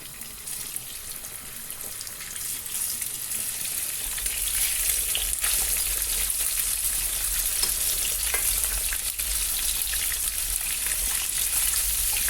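Salmon frying in olive oil in a pan, a steady broadband sizzle that grows louder after a few seconds and holds continuously, with no talking.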